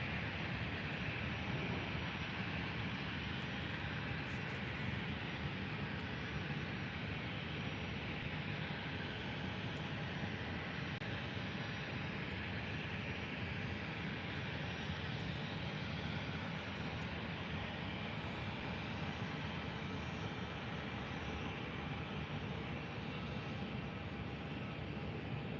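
A Tui Boeing 737-800 taxiing at Faro airport gives off a steady, broad jet-engine roar and hiss that holds even and continuous at a middle distance, with no talk.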